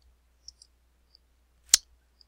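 A single sharp computer mouse click stands out in a near-silent room, with a few faint ticks before it.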